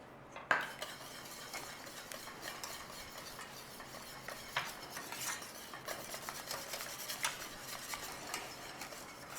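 Creamy mustard sauce with black pepper being whisked in a pan, a steady run of quick metallic scraping and clinking strokes, close and fairly quiet, with no talking.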